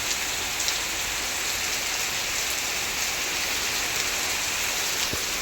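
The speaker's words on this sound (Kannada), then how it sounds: "ಮಳೆ ಬೇರೆ ಬಂತು ಗೈಸ್" Steady rain pours down in a dense, even hiss, with no voices, just the constant wash of falling water.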